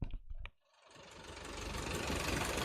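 A sailboat engine running in an engine compartment lined with hemp insulation, a steady broadband rumble that swells in after a short pause and holds loud and close.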